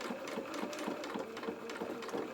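A sewing machine runs steadily across a small doll jacket seam, a fast even stitching rhythm close up and moderately quiet, with no talking.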